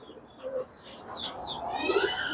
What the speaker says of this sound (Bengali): এই যে নীলদুম্বা কবুতরগুলান